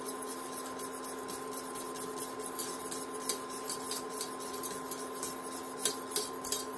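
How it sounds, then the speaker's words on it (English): A utensil stirs paprika and turmeric into a pot of vegan cheese grits, giving soft, faint scraping and light clinks against the pan over a steady background hum, with no talking. "We're going to stir those in"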